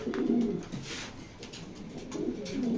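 Racing pigeons coo close by, two low throaty rolling coos with a brief soft rustle between them, clear against a quiet background.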